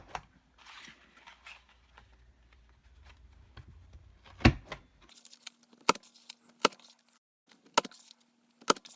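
Paper card punched in a WAMK frame punch board, several sharp separate clacks and snaps at irregular intervals over faint handling rustle.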